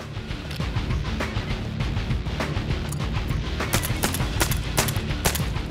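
Gunshots from upside-down hip shooting at flying clay targets, a series of sharp cracks at irregular intervals over a steady outdoor rumble, with no talking.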